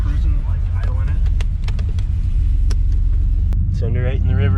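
A Subaru BRZ's engine idles with a low, steady rumble while cruising, heard from inside the car under continuous road noise, with a person speaking near the end.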